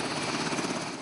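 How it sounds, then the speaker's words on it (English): A Coast Guard Jayhawk helicopter taxiing, its rotor and engine roaring steadily, a dense thrumming wash of noise that stays even throughout the short stretch. "our Jayhawk helicopter is taxiing into the sunrise"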